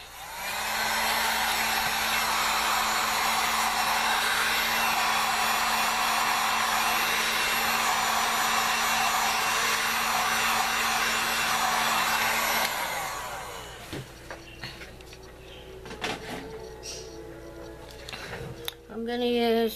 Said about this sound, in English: Let me just hit it with the heat gun